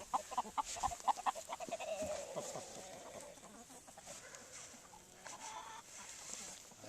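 Hens in a multi-breed laying flock clucking on a farm, several quick clucks up front, then softer, continuous murmuring calls from birds near and farther off; fairly quiet overall.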